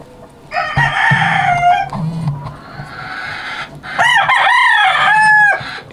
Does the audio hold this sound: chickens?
yes